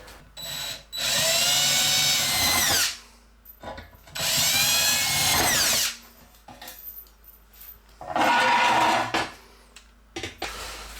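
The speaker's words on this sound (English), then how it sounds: "we're gonna drill some holes for the soft close mechanisms that go inside here" A power drill bores holes in wood for soft-close cabinet mechanisms, three loud whining bursts of a few seconds each separated by quiet pauses with small clicks and handling noises.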